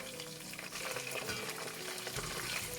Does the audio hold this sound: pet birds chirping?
no